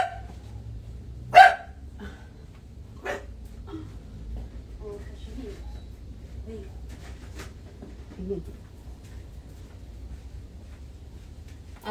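A pet dog called Snoopy gives one sharp, loud bark close by in a quiet home, followed by low room noise and faint scattered voices.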